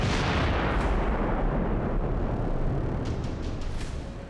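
Israeli bunker buster bombs strike in Gaza, making a loud, sustained rumbling roar of explosions that slowly fades, with no talk over it.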